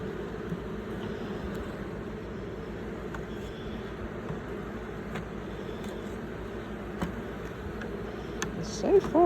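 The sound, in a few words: honeybees busy at a hive with honey supers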